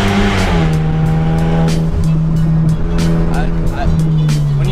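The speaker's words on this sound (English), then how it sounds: "It's a full custom exhaust." A Genesis Coupe with a full custom exhaust revs loudly and steadily close by, its deep exhaust drone holding a strong low tone throughout, with faint tire noise.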